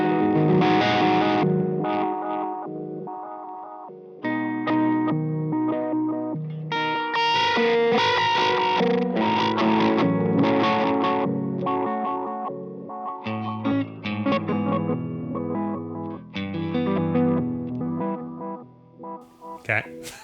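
Electric guitar through a lo-fi effect pedal gives a gritty, warbling, chorused tone as chords and notes ring in a steady, dense stream, loud and close throughout.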